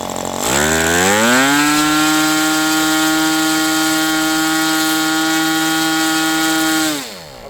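A Magnum 65 GPSE model aircraft engine with a three-blade prop spins up from idle to a loud, steady, high-pitched buzzing drone. It holds that pitch for several seconds, then winds down abruptly.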